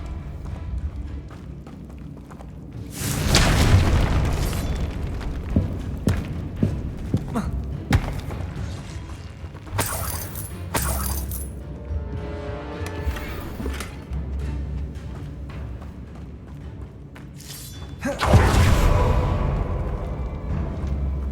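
Confringo fire spells in the Hogwarts Legacy PC game burst out as loud, rushing blasts with heavy thuds, two big bursts far apart, while smaller impacts and game noise fill the gaps.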